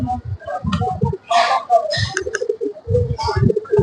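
Pigeons at a crowded pigeon market in Mirpur, Dhaka, coo repeatedly in low, throaty bursts close by, mixed with other bird calls and brief higher chirps.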